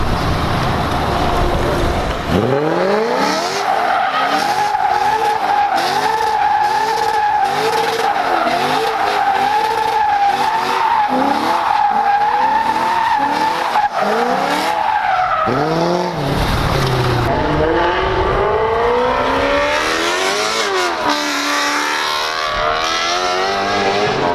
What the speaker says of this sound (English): I drifted it